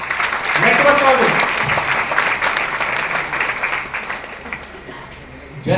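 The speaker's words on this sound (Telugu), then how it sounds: "మీరు హ్యాపీ క్లాప్స్ కొడుతూ ఉన్నారు" Audience at a sales training meeting bursting into sustained applause, many hands clapping loudly at first and then gradually thinning out, with a voice speaking through it.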